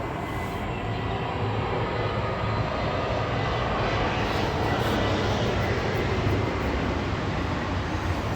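An airplane passes overhead, producing a broad, steady roar that fills the whole stretch. It swells slightly toward the middle and no one speaks.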